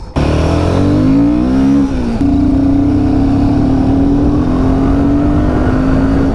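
Royal Enfield Himalayan 450 motorcycle on a ride toward Gangtok, Sikkim, engine loud and close with a rising drone, a brief dip and shift, then a steady sustained hum under wind noise.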